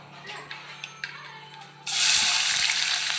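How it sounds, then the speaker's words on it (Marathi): Cumin and mustard seeds hit hot oil for tempering and burst into a loud, steady sizzle partway through, following a few quieter clicks and kitchen clatters. "इकडं फोडणी चालू आहे काय टाकली जिरं आणि मोहरी टाकले"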